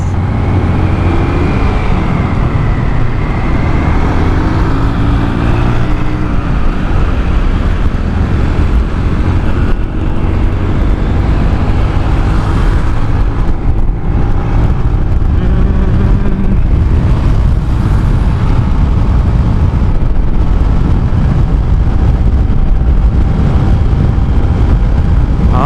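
Automatic scooter rider wearing a KYT NZ Race full-face helmet accelerating along the road, steady loud engine drone with rising tonal whine and constant wind rush across the microphone throughout.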